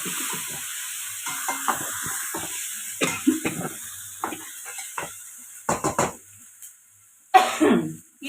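A green chili and ginger paste being sautéed in a pan makes a faint sizzle, broken by scraping stirs and clinks of a spoon against the pan, with a cough partway through.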